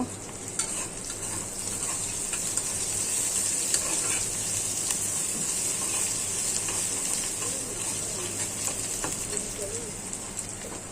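Green chili and salt tempered into a vegetable fry, steady oily sizzle with scraping stirs running continuously and close.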